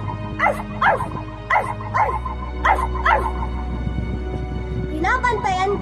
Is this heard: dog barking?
yes